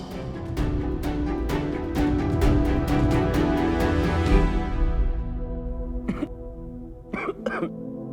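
Someone nearby coughs and clears their throat repeatedly in a rough, rhythmic burst, trailing off into a few separate coughs after a pause.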